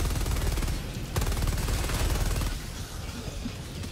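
Rapid automatic gunfire from a video game machine gun, a dense, loud burst of repeated shots that runs continuously for several seconds and eases slightly toward the end.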